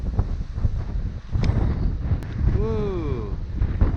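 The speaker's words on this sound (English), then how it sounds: "Ooh, it's a windy day." Strong wind buffeting the microphone on the Bermuda coast near Commissioner's House, a constant roaring rumble with gusts, while a faint rising whistle-like tone briefly sweeps through the middle.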